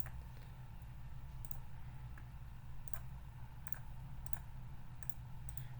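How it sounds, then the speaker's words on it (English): Mouse clicks on the keep button in a digital card game, several sharp, faint, evenly spaced taps over a steady low hum of background noise. "I will click the keep button."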